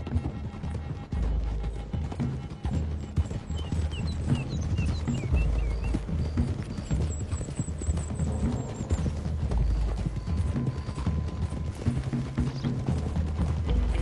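Several horses trotting in Red Dead Redemption 2, a steady, close clip-clop of hooves on a road that runs throughout, with an occasional whinny.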